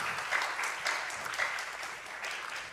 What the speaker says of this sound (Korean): 우리 뜨겁게 박수 한번 부탁드리겠습니다.